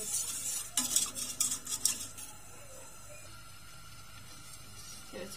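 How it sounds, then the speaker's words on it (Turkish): A spoon stirs milk pudding slowly in a metal pot, giving a burst of quick scraping clinks for about two seconds before the stirring fades into quiet kitchen background. "Şimdi muhallebimizi yavaşça bu şekilde karıştırarak."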